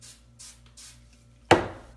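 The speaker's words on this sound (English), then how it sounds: "the spray I like is the Dritz basting spray" Dritz basting spray sprayed onto fabric behind a small template piece while sewing a wristlet: one sharp, close aerosol hiss that starts abruptly and fades, after a few soft rustles of fabric handling.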